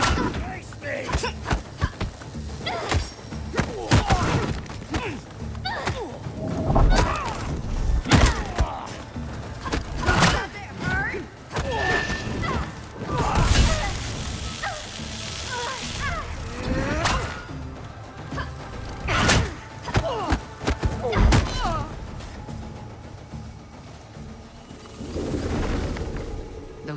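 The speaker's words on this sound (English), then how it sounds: "Those exploding canisters weren't exactly subtle." Canisters explode in the video game Unknown 9: Awakening amid close combat: a dense run of sharp, loud bursts, thuds and whacks at irregular intervals, near and punchy, with voices and grunts mixed in and a rumbling game backdrop throughout.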